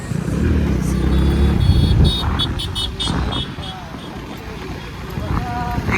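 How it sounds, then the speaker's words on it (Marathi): Road traffic with a steady rumble of passing vehicles and engine noise, brief horn-like tones and people talking over it. "ट्रॅफिक किती आहे आई"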